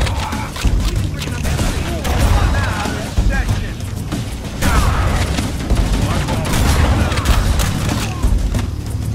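Gunfire in Halo: Combat Evolved, with dense bursts of shots and booming thuds running loud and steady throughout over a heavy low rumble of game sound, with voices talking underneath.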